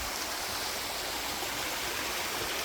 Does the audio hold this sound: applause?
no